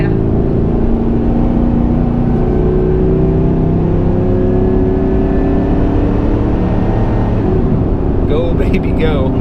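A Ram 3500 pickup truck cruises at about 65 mph on a windy four-lane highway near a bridge. Loud, steady road and engine roar fills the cabin without a break, and a brief faint voice rises near the end.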